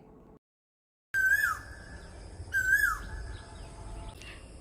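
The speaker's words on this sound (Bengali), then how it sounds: "পাখির কুহু কুহু শব্দ" A bird calls twice with clear, loud, sliding whistled notes, each followed by a softer trailing tone, against quiet outdoor background after a brief hush at the start.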